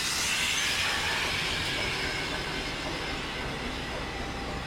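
A locomotive-hauled train roars past nearby, a loud continuous rumble with bright metallic hiss and no pauses.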